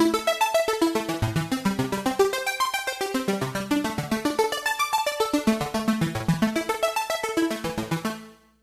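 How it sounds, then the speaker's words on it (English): Arpeggiated synth patch from the upper tone of a Roland SH-201 synthesizer, a fast steady run of bright plucked notes cycling up and down through a chord progression, close and clear with no talking, ending abruptly. "In the upper tone, I have this patch with the arpeggiator on."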